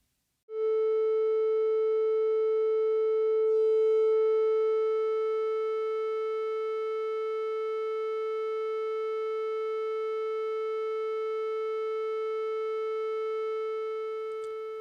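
A triangle wave passed through a high-pass filter differentiator, shaped nearly into a square wave, holds as a continuous buzzy synthesizer tone, steady and loud throughout.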